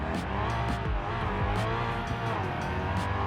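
A car in the BeamNG driving game sits in place spinning its wheels: a loud, continuous engine roar with tire squeal and scrubbing, held steady at high revs.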